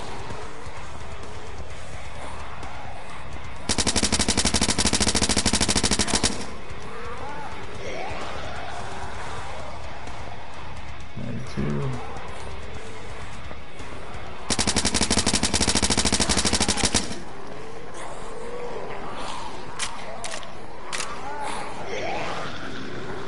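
Bursts of rapid automatic gunfire in the video game Blood Waves, two loud sustained volleys separated by quieter game ambience, with a player talking in between.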